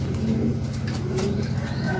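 Racing pigeon cooing close by in a loft, a low, continuous murmuring coo that carries through the whole stretch over steady background noise.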